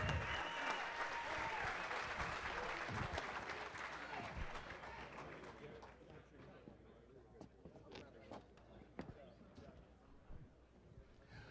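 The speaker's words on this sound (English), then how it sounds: "How about another round of applause for our teams," Applause for competing teams at the 2017 WAAC awards ceremony, a dense crowd clapping loudly at first, then thinning to scattered claps and fading over the last few seconds.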